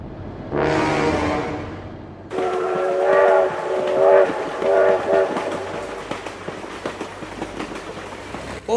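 A train rushes past in the BeamNG Drive driving game: a rising whoosh, then a loud passing rumble with repeated horn blasts and rhythmic clickety-clack of wheels on rails.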